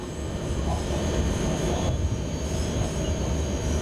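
A train in the SimRail game accelerates up a hill, giving a loud, continuous low rumble of rolling wheels and traction power with faint high whine, steady throughout without speech.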